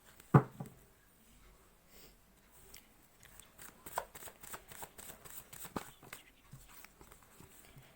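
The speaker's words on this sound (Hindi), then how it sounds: "पहले मैं कार्ड्स निकाल लेती हूँ" Tarot cards being shuffled and drawn from a deck, a sharp snap near the start followed by a run of soft riffling flicks and light card slaps, close and fairly quiet with no talk.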